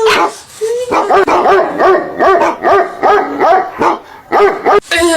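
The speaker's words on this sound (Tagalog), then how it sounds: "Kaya tumatahol yung aso" A dog barks repeatedly and close by, a rapid series of sharp barks in an uneven rhythm, loud and clear.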